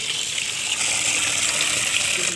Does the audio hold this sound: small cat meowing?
no